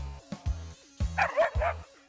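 A fearful dog gives a run of sharp barks and yips, about four quick, close, loud bursts in an uneven rhythm, with whimpery tones between them.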